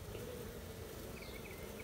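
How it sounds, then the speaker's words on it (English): A faint, steady buzzing of many honeybees held in a cage, a continuous low drone with no voices. "got those bees from last night still in the cage"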